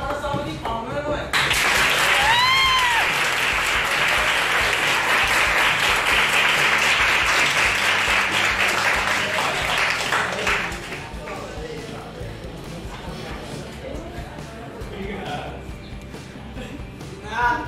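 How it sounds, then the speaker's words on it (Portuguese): Students applaud their teacher in a classroom, loud dense clapping for about ten seconds that then thins out and fades, with voices heard over and after it. "Eu acho que a gente dá uma salva de palmas, não é?"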